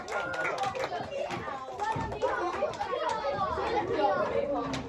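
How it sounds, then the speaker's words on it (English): Group applause after a rock paper scissors final in a school setting with children and a teacher: clapping mixed with lively chatter and excited kids' voices, with talk running over it the whole time. "Round of applause! Round of applause!"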